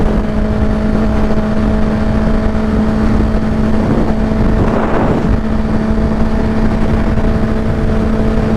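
Honda CBR650R motorcycle (2021) engine running steadily under way, a constant loud drone with a swell of revving around the middle, plus wind rush; no talking.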